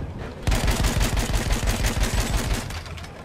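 Rapid bursts of Battlefield 1 multiplayer gunfire crackle loudly and continuously after a brief quiet start, with no voices, during a Conquest match on the Argonne Forest map.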